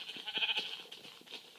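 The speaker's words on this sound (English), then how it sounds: "Okay, sheep." A sheep in the Minecraft video game bleats in a short, faint, wavering cry, heard alone and briefly.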